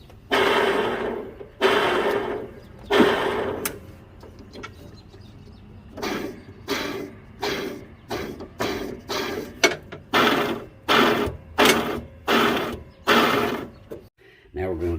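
Drive belt idler pulley bearings turning on a Craftsman DYS4500 riding mower with a 22 hp Briggs & Stratton Intek, heard close as a mechanical whirring in short repeated bursts separated by quiet gaps.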